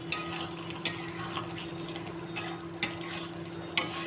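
Potatoes and tomato sautéing in a pan give a steady, soft sizzle, broken every second or so by short scraping strokes of a spatula stirring the mixture.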